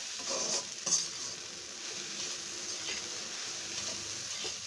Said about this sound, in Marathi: मी ही डाळ भाजते आहे।